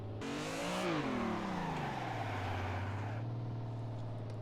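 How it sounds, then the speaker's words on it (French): A simulated car engine in the racing game Assetto Corsa, driven while drifting, revs up sharply, drops back as the throttle eases, then settles into a steady droning idle, loud and alone. "Lorsque le régime monte, que votre voiture part en travers, vous lâchez l'accélérateur."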